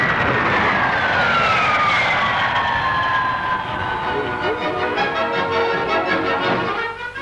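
A de Havilland Comet jet airliner roars overhead at a 1950 Farnborough air show, a loud continuous whine with falling pitch as it passes, recorded with a dated, noisy quality.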